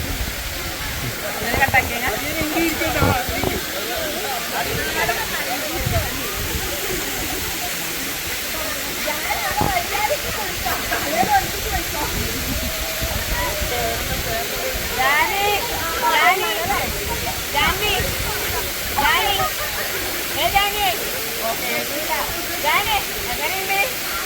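Karakkund waterfall roars in a steady, loud, unbroken rush while voices talk over the constant noise of the water.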